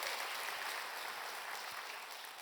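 A church congregation claps steadily in welcome of a newly arrived evangelist, a broad, even wash of applause from many hands, moderately distant and fading slightly toward the end, with no talking over it.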